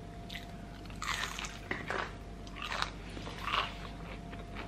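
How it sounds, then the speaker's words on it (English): Crunchy fried chicken strip bitten and chewed close to the microphone, a series of sharp crisp crunches in irregular bursts over a quiet background. "listen to this crunch, okay? This is the chicken strip."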